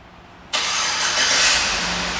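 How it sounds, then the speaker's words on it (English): A 2008 Chevrolet Tahoe LTZ 4WD fires up by remote start, a sudden burst of cranking that settles into a steady, close idle with a slight rise in revs; no voices. "This vehicle does have the remote start option."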